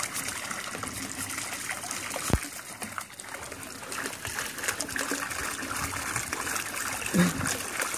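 Water runs steadily into a tub outdoors, a continuous broadband trickling gush with a brief splash near the middle and another toward the end, fairly close and moderately loud.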